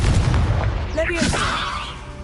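A fiery Confringo spell blast in Hogwarts Legacy, a loud, sustained roaring burst that fills the whole moment and fades slightly toward the end, with a voice briefly audible over it.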